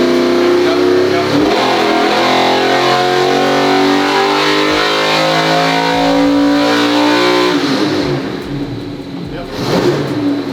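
A 2000 HP Corvette C8 engine revs hard and close, a sustained roaring climb that drops off near the end and then surges briefly again.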